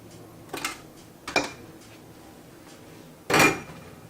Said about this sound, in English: Now we're going to add 4 eggs.